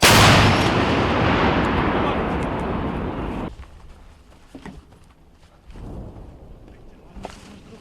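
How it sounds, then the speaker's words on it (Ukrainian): A loud D-30 howitzer shot bursts out and rumbles on for a few seconds in the Serebryansky forest before cutting off, leaving quiet handling noises and a brief later swell. "Гармата! Пострел!"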